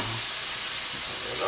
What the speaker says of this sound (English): And now I'm going to throw some tofu in there.